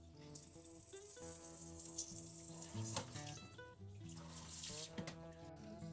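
Water gushes fast from the waste outlet of a Sentry reverse osmosis filter system, a continuous close splashing stream with some tonal ringing, steady for several seconds.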